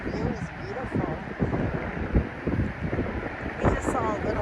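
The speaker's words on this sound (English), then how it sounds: "it's so windy" Strong wind buffets the microphone outdoors at an open, scenic spot, gusting in steady rough bursts throughout, with a person's voice partly audible under the noise.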